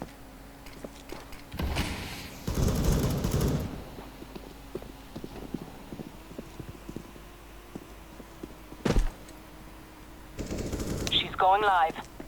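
Bursts of automatic gunfire from Counter-Strike: Global Offensive gameplay, a couple of dense volleys and a sharp single burst separated by quieter stretches of game ambience.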